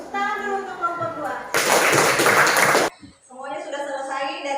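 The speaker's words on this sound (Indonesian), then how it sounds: "Tepuk tangan dulu untuk kelompok 2." Children in a classroom clap for a group of classmates, a dense burst of applause lasting over a second between stretches of a voice talking.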